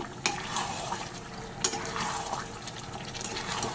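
Bowl-rinse water poured into a simmering chicken curry with yogurt, then stirred: a steady watery pour and bubbling wash with two sharp clinks of a utensil against the pot, close and moderately loud.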